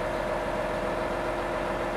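Fendt 1000 tractor engine running steadily while the machine is lowered to the ground, a constant mid-pitched hum with a faint drone on top, close and unchanging throughout.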